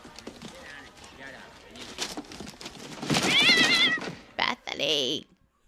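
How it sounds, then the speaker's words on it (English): A cat inside a box meows a few times, muffled at first then a louder drawn-out cry, while people talk over it nearby. "This box is meowing."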